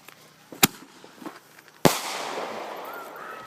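A couple of short pops, then a loud firework mortar launch thump followed by a sustained hissing, crackling rush as the shell goes up.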